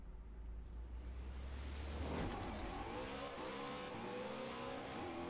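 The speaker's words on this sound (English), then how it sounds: "Look at the Aventador go." Lamborghini Aventador supercar racing in Forza Horizon 4, a loud continuous engine roar that climbs in pitch as it accelerates hard, with rising gear sweeps and no talking.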